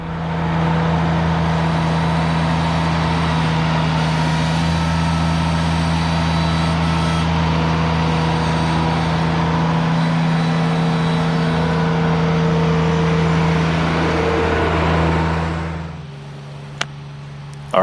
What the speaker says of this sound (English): So I'm going to go grab the tractor and keep moving here.